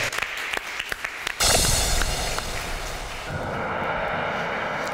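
Studio audience applause at a Turkish television show breaks out loud and sustained, swelling sharply after a quieter stretch of scattered claps and continuing as a dense wash of clapping to the end.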